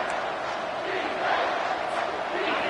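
A college football stadium crowd at a JMU game roars steadily on a big third down late in a close game, a loud, sustained wash of cheering with no clear breaks.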